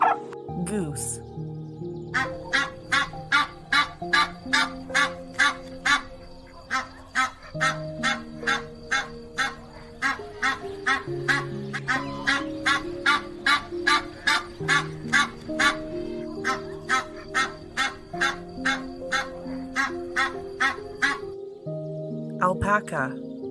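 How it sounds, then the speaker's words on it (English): A goose honks loudly and insistently at close range, a long rapid run of harsh calls with barely any pause, with no one talking. "goose,"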